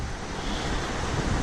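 Continuous wash of surf along the Chesapeake Bay shore off Shore Drive at Chic's Beach, a broad steady roar with wind buffeting the microphone, close and loud, with no voices.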